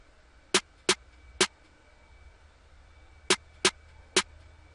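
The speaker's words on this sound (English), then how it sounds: "the other snare, which is kind of played, which has just some ghost notes to it" Snare hits from a programmed hip-hop beat, played alone as two groups of three sharp cracks separated by a short gap, with no other instruments.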